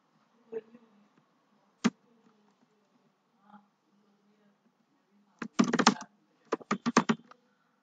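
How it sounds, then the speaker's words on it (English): Computer keyboard typing in short bursts, a few isolated key taps followed by a quick rapid flurry of clicks and several more taps, close and clear with no talking. "So we'll go to Google and we'll type."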